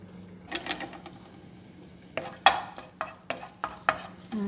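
Garlic sizzling in a hot pan while being stirred, a quiet crackle under a string of sharp utensil scrapes and clinks against the pan, close and irregular, with no talking.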